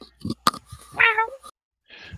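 A person mimics a roar that comes out weak and feeble, almost like a kitten's mewl. It is one short, thin, strained cry in the middle of a tabletop role-playing stream, with brief talk and noise before it and a faint voice after.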